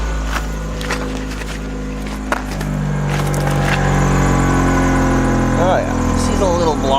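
A 1998 Saturn SC1 engine with a blocked exhaust idles with a rough, uneven low rumble, while a voice talks over it and a few clicks and knocks sound nearby.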